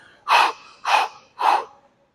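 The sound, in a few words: forceful hyperventilating breaths before leg exercise set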